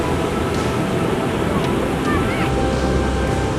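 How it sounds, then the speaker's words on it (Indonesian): Big Indian Ocean waves at Batu Ulai beach, a rocky shore with no sand, pounding surf as a dense continuous roar with wind buffeting the microphone, loud and close throughout. "Ombak yang besar membuat pantai ini tak punya pasir karena tergerus oleh derasnya ombak."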